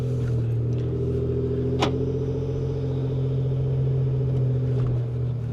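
Steady engine drone of a 2.7L EcoBoost Ford F-150 with an SPD Performance exhaust, driving through a neighborhood. A sustained tonal turbo whistle rides over the low rumble, loud and continuous, with no talking.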